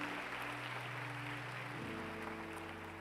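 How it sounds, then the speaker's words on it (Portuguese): A church congregation applauding during a Portuguese-language sermon: steady, dense clapping fills the room at a moderate distance, with sustained organ or keyboard tones underneath. "Você pode aplaudir ao Senhor?"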